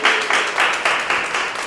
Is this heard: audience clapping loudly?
yes